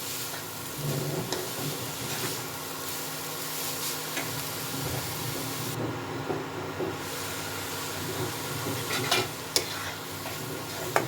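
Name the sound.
grated carrots frying in ghee for gajar halwa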